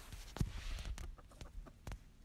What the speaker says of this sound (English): You can hear them pecking.